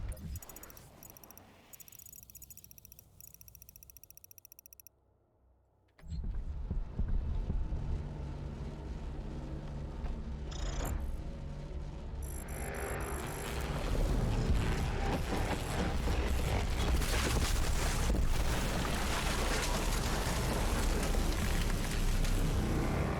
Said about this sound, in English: The generator is overloading.